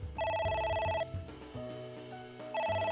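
An electronic telephone ring from AI: The Somnium Files repeats in two loud bursts with a lower tonal pause between them, clear and close with no talking.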